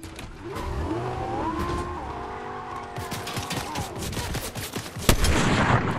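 Rapid pistol shots from the Resident Evil video game crack out in bursts over a game engine whine and other in-game noise, with a louder blast near the end.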